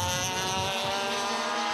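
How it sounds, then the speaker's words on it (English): A racing kart in a Leopard Pro Class final at the City of Adelaide Kart Titles screeches its tyres under heavy braking into a corner, a loud, sustained high squeal over a buzzing engine throughout. "You can hear the squeal of tyre."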